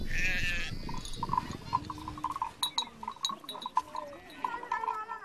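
Red Maasai sheep bleat among other livestock in an outdoor pastoral setting in Africa, with several overlapping calls near and far. Faint metallic clinks like bells ring out and a low background murmur runs throughout.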